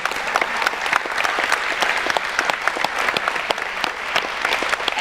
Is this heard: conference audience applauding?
yes